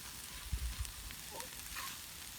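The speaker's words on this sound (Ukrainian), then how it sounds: "картопелька в нас вже посмажилася, бачите яка?" Potatoes fry in a pan with a soft, steady, faint sizzle, broken by a couple of dull knocks early on and no talking.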